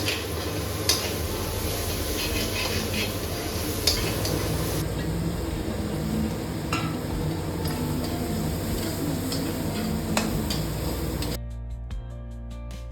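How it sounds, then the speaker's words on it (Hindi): Paneer bhurji stirred and sizzling in a pan in a home kitchen, a steady close frying hiss with scraping stirs and light clinks throughout, no talking. "तो बस मैं यहाँ पे पनीर की भुर्जी बना रही हूँ"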